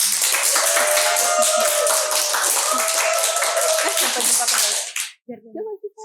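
A small audience at a podcast recording claps steadily and close for about five seconds, with a few voices underneath, before it stops abruptly and brief speech follows.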